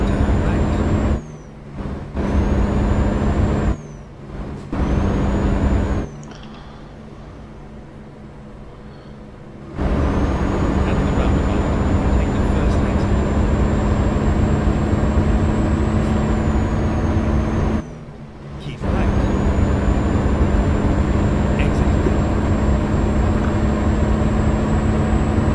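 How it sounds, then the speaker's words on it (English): Loud, steady droning of a vehicle engine on a short trip, with the engine box very loud; the drone runs throughout and drops out briefly several times, with a high whine riding above it. "It just seems like the engine box is way too loud."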